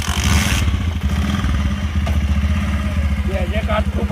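A motorcycle engine chugs loudly and close in rapid rhythmic pulses after an initial clattering burst, with voices briefly heard near the end.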